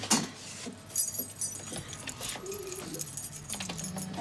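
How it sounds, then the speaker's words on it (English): Keys jangle and clink in a tense indoor scene during a break-in, with sharp metallic rattles at the start and again later, mixed with shuffling and background movement. "Well, I've got keys, Robert."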